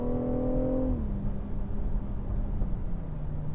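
A 2019 BMW X4 M40i xDrive accelerates hard in sport mode, its engine rising in a loud steady pull, then dropping briefly at a gear change before climbing again, with no talk.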